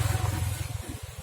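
A Honda Supra X125 motorcycle engine, freshly rebuilt with an oversized piston, idles close by with a fast, even pulsing beat, carrying the rattling knock of the piston.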